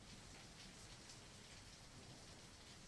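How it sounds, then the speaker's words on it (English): Steady, even rain falls in the visual novel Angels with Scaly Wings, a soft continuous hiss that stays at a constant level throughout, with a faint low rumble beneath and no voices. "It's raining."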